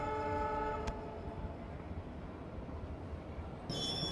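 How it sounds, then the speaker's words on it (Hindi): The Jodhpur Bathinda Express passes close by as heard from a stopped train in Rajasthan, with a loud rumble of wheels throughout, a brief horn at the start and a sharp squeal near the end. "और ये शायद से जोधपुर बठिंडा एक्सप्रेस है जो कि फ़िलहाल अभी हमें क्रॉस हो रही है"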